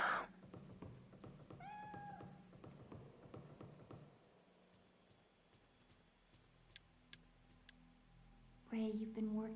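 A cat in the PS2 horror game Fatal Frame 3: The Tormented gives a few short, soft meows near the start and again at the end, with faint ticking and quiet rain-like ambience between them.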